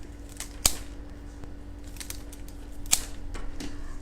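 Scissors snip through flower stems for a small fish bowl arrangement, giving two crisp, close cuts among faint handling noises in a quiet room.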